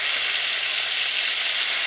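Pork pieces frying golden brown in a pan, a loud dense sizzle and crackle that stays constant and close throughout the short stretch.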